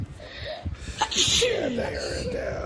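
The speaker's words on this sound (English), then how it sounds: "That was a funny sneeze." A single sneeze bursts out amid casual conversation between two people seated indoors, with talk continuing before and after it.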